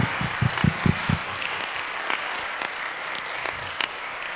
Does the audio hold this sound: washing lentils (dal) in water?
no